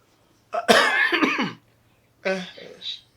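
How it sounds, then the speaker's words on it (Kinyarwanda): A person gives a harsh, rasping cough burst, then a shorter second cough after a pause, both close and loud against quiet. "Inkorora yarinyishe pe"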